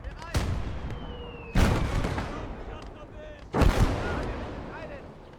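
Three heavy artillery shots boom from the World War II strategy game Gates of Hell: Ostfront, each a sharp loud blast that rumbles away into a long tail, spaced about a second and two seconds apart.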